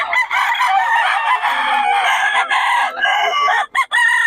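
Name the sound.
White Hatch gamefowl rooster crowing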